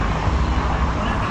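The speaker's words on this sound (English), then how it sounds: "It makes it very noisy because this is a cobbled road. It just makes cars very noisy." Cars roll over a cobbled road in Paguera, Mallorca, making a steady, loud rumble of tyre and road noise with no pauses.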